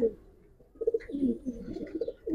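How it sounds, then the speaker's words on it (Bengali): A pair of Giribaz pigeons, silver with black necks, coo softly in low, throaty burbles, a few murmured calls close by but faint, with little else around. "দুইটা কবুতর মাশাআল্লাহ অনেক সুন্দর"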